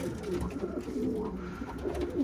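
Soft, low pigeon coos repeat under a muffled, rumbling background, faint and somewhat distant, with no voices present.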